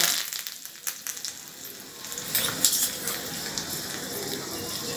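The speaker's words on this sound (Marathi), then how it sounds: "इथे मी फोडणीसाठी थोडं तेल तापवून घेतलेलं आहे. त्यात आपण सुक्या मिरच्यांचे तुकडे घालायचे आहे." Dried chilli pieces and curry leaves crackle and sizzle in hot tempering oil, a faint hiss at first that breaks into louder, busier spattering about halfway through.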